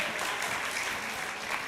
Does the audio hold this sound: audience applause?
yes